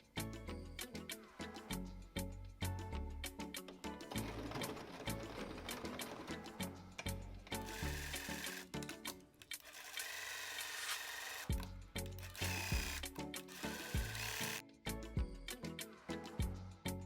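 Sewing machine stitching fabric, a rapid continuous mechanical chatter with a brief pause midway before resuming, steady and close.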